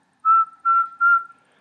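A person whistles three short, clear, steady notes close by, with brief gaps between them and no talking.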